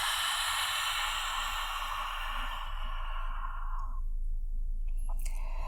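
One long, forceful breath during Uddiyana Bandha yoga breathing is pushed out in a steady airy rush lasting about four seconds, close by, trailing off into near silence.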